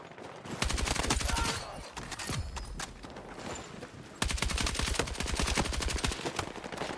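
Rapid carbine gunfire in the Battlefield 6 video game, repeated automatic bursts of sharp close shots with a short pause between volleys and a long sustained string near the end.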